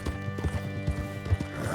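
Horse hooves clip-clop at a walking pace in Red Dead Redemption 2, with a brief whinny, close and steady with no talk.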